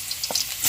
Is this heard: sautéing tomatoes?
yes